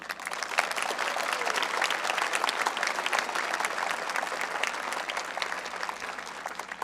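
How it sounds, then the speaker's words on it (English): A graduation audience for the class of 2021 applauds, dense, even clapping from many hands that holds steady and loud from start to finish. "Please join me in a round of applause to show our appreciation"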